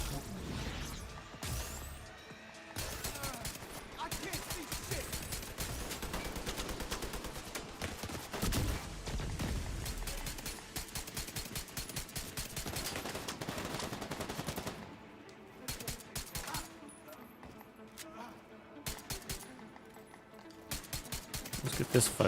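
Gunfire in The Division 2 comes in dense rapid bursts and crashes that crowd the whole clip, followed by a thinner, sparser spell and then a final loud flurry, with a player talking over the shooting.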